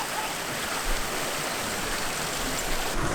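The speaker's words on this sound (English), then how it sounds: "should we go find another beachfront waterfall?" Steady, loud rush of a beachfront waterfall on Vancouver Island, a continuous broadband roar with no breaks, close by.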